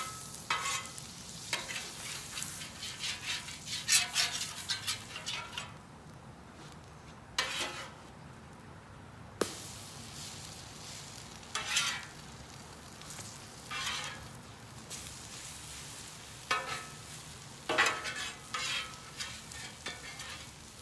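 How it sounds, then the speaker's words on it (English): Butter and food sizzling on a Blackstone griddle at breakfast, with a steady soft fry broken by spatula scrapes and clinks at irregular intervals, fairly quiet and without voices. "I'm going to throw on my other piece of butter."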